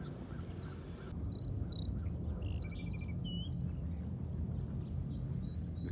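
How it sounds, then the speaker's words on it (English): Twelve-and-a-half-day-old sparrows chirp in a quick series of thin, high tweets over a steady low outdoor rumble, moderately distant and fading after a few seconds. "12-and-a-half-day-old sparrows."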